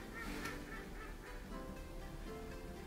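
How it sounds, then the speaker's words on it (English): Ducks call outdoors, honking and quacking in a steady chorus at moderate distance, loud and continuous with no voices over them. "Can you hear the ducks?"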